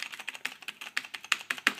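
Typing on a Compaq MX 11800 mechanical keyboard with Cherry Brown switches produces a steady run of close, crisp keystroke clicks at an even pace, with no voice in the mix.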